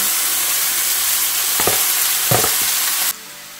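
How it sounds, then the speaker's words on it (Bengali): Ridge gourd dropped into hot oil with fried garlic and dried chilli, a loud close sizzle broken by two clunking stirs before it cuts off abruptly near the end. "এবার দেখুন ঝিঙেটা দিয়ে দিচ্ছি।"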